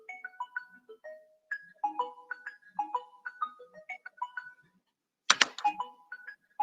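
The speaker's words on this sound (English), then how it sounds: "The phone gonna keep ringing." A phone rings with a melodic, chiming ringtone, short bursts of tones in repeating phrases broken by one sharp clattering noise, fairly close and without talk.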